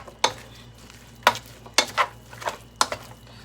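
Meat sizzles as it fries in a pan while a plastic utensil shreds and turns it, giving sharp scraping strokes at an uneven rhythm over a constant soft frying hiss.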